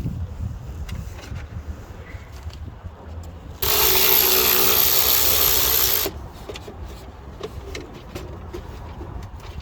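A 7mm screw is driven out of the upper glove box trim in a 2019-2023 Ram Laramie Longhorn truck, a loud close whirring burst lasting a couple of seconds amid quiet surroundings.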